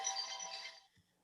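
A mobile phone ringtone sounds briefly during an evening board of directors meeting, a bright, loud tone lasting under a second before cutting off, followed by near silence.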